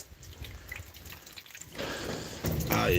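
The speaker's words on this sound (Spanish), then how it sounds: "Va a estar todo el día lloviendo" Rain dripping outdoors on a wet, all-day rainy day, irregular drops tapping close by, growing louder and denser toward the end, with no talking.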